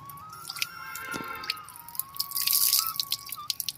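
Water drips softly from a tap after it has been turned off, a few scattered wet plinks against a quiet background with a faint steady tone running underneath.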